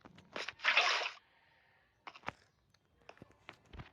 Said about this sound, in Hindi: और एक बकेट है मेरे पास, तो ये भी भर लेता हूँ पानी से